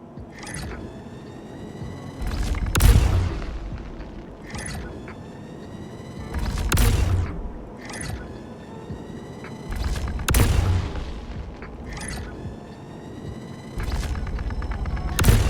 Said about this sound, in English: It only took 4 blasts to take down the Prowler.